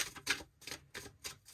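Quiet, close riffling of tarot cards being shuffled, a few soft rhythmic bursts of papery flicking about every third of a second.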